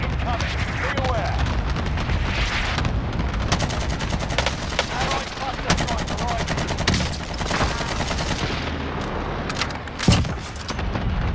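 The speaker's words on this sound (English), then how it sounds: "Allied precision airstrike incoming." Explosions from an allied precision airstrike in an online shooter game, a dense roar of booms and crackling blasts with scattered gunfire throughout, one sharper heavy burst near the end, with voices talking over it.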